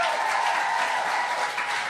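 Congregation in a church service claps its hands enthusiastically, a brief, dense, steady burst of applause with no talking over it.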